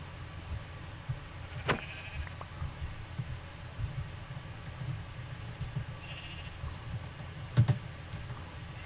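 Sheep bleating in Minecraft, with a couple of short game bleats standing out over a steady low background hum and scattered soft clicks.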